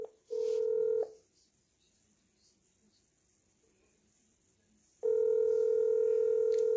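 Two long, loud, steady telephone dialing tones on a line, separated by about four seconds of near silence, with no talk over them.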